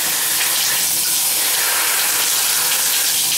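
A shower runs in a steady, loud hiss of spraying water, unbroken throughout with no voices.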